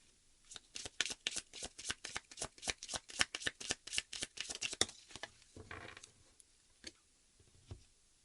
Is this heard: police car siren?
no